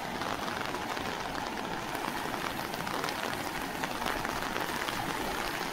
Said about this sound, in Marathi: बघा पाऊस पडता तरी